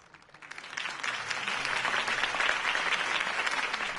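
Crowd applause at a campaign rally for Harvey Dent in the Batman Telltale Series video game. The clapping swells quickly and holds as a dense, steady roar of many hands.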